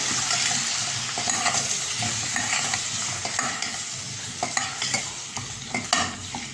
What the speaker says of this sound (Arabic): وفوق البطاطس هحط لها حوالي 4 فصوص كده من الثوم اهو، وهنديها تشويحه كده